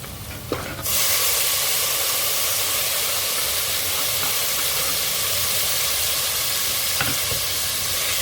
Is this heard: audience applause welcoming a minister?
no